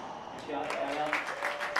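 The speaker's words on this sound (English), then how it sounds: "there they are cheering on Jake Bredenbeck with the side out" Spectators at a racquetball match between Gutierrez and Bredenbeck cheer and clap after a side out, a steady wash of crowd noise with scattered shouts that swells and holds.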